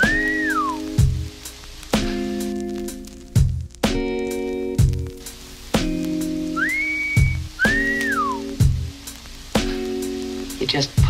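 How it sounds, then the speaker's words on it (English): Person whistling short rising and falling phrases, alternating with a looping tonal musical backdrop and soft crackle, several separate whistles spread across the passage. "You know how to whistle, don't you"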